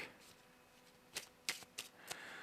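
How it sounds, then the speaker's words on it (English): A deck of playing cards for a solo tabletop card game is shuffled quietly up close, with a few crisp riffling bursts separated by short pauses and no talking. "reshuffle our discard pile into our deck"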